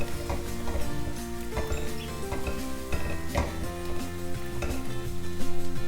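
Arai keerai greens and turmeric sizzle steadily in a hot pan, with continuous frying hiss and occasional stirring scrapes, close up and alone, without any talk.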